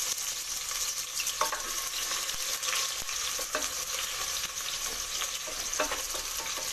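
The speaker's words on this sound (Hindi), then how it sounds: "तेल जो हमारा गर्म हो चुका है, अब हम इसमें एक छोटी प्याज को काट लिया हमने, महीन महीन इसको डाल देंगे" Finely chopped onion frying in hot mustard oil, a steady loud sizzle with occasional stirring scrapes, close and continuous without speech.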